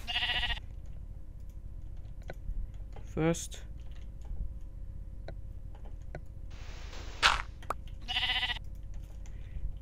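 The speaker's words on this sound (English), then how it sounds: "Sheep probably wants to take a bath" Sheep bleating in Minecraft, a few short wavering bleats at the start, middle and near the end, heard over a low steady game background with faint clicks and a brief voice.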